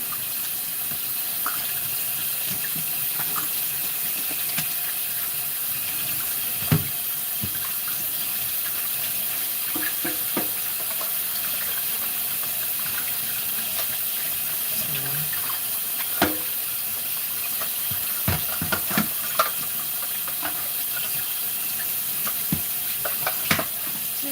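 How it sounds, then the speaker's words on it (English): A food processor being washed under a running tap, with a steady broadband water hiss throughout and occasional clinks and knocks of the parts against the sink. "I'm literally washing this already, you guys."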